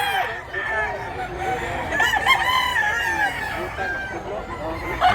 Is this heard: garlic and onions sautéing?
no